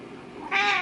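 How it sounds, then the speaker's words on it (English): A female house cat on new medication gives one short, plaintive meow near the end, preceded by quieter murmuring sounds from the cat. "meowing. She's been doing that all night long"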